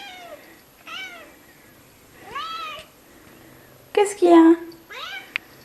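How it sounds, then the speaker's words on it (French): A house cat meows several times, close by, in short rising cries, with one louder, longer yowl near the end and a person talking softly between the calls. "Regardez-moi ce chat. Il vient se frotter à ma jambe"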